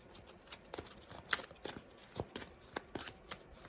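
Tarot cards shuffled and flicked in the hands, a run of crisp, papery riffles and snaps at an uneven rhythm, close and fairly quiet, with no talking.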